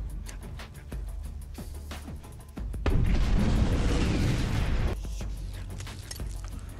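A loud, rumbling blast bursts out and roars for about two seconds over a noisy mechanical background scattered with pops and thuds.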